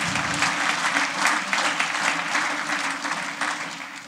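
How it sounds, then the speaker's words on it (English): A crowd at a First Citizen Awards event gives a loud, sustained round of applause for a speaker's husband, Ron. The dense clapping keeps an even level for about four seconds and no one speaks over it. "give him a round of applause."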